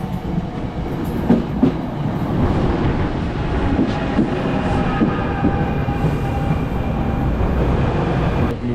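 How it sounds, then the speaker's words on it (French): Train noise inside Penn Station in New York, a steady loud rumble of rolling rail cars with faint metallic clicks, continuous and close throughout with no talking. "Nous voilà dans la gare de Penn Station."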